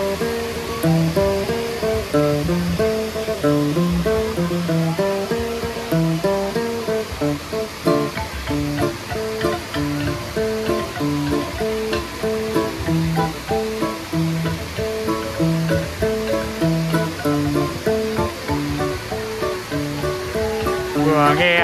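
A rocky mountain stream at the Hồ Suối Lách tourist area in Khánh Vĩnh, near Nha Trang, babbles continuously under loud music that plays throughout.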